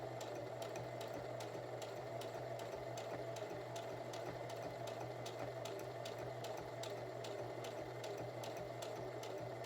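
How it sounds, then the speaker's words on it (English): Sewing machine stitching a fabric bookmark, running steadily forward and in reverse with a fast, even mechanical rattle and regular needle clicks, close and loud, with no talking. "I sewed a couple of stitches forward. You want to press your reverse button, go back,"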